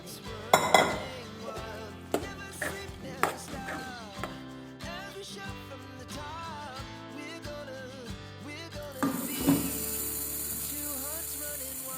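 Pots, pans and dishes being washed, with repeated sharp metallic clanks and clinks of cutlery and steel vessels ringing against each other, close by, while voices murmur in the background.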